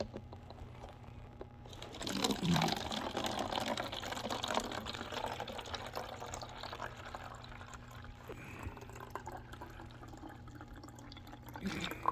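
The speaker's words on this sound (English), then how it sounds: "I am going to pour some in my little bottle here" Hydrogen peroxide poured from its bottle into a small bottle, a soft, quiet liquid trickle with faint handling noise, running steadily for most of the stretch without any talk.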